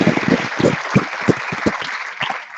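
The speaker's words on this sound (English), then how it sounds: "Let's give a big round of applause for the finalists." Applause from the audience greets the finalists at a university debating championship grand final, a strong burst of clapping with individual claps standing out near the front and carrying on for a couple of seconds.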